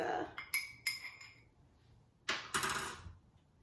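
A spoon clinks repeatedly against a mug while stirring French vanilla creamer into coffee, giving a few bright, close metallic taps in quick bursts separated by short pauses, with no talking.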